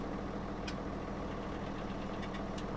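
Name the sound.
New Holland tractor engine idling in Farming Simulator video game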